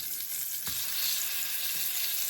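Three pork chops fry in a pan with a steady, bright sizzle that fills the soundscape, close and continuous, broken by a brief knock partway through.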